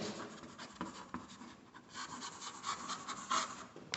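A pen scratches across paper, writing notes in short strokes and steady bursts, close and fairly quiet, with no talking.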